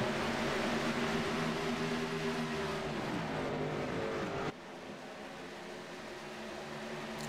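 Stock cars roaring away on a green-flag restart at Darlington Raceway in a Toyota/NAPA Auto Parts 150 race, a loud, dense engine drone with rising pitch that drops abruptly to a quieter, steadier roar.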